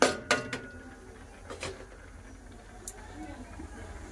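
A spatula clinks and scrapes against a wok while radish greens are stirred with a little water, giving a few sharp metallic taps early on and then softer, faint stirring.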